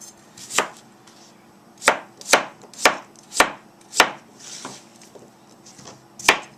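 Daikon radish chopped with a knife on a board, about seven crisp, distinct chops in an uneven rhythm, close and loud, with no talking.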